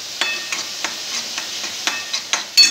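Black masala, chili powder and turmeric roast in a pan, and a spatula stirs in an even rhythm, giving about eight soft scraping ticks over a low, gentle sizzle.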